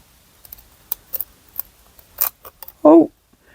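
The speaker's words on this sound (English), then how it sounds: "Yes, so scissors work quite well." Scissors snip through thin material while cutting out a tiny knife shape, a few sharp isolated clicks and crisp snips spread out, with one louder close cut near the end.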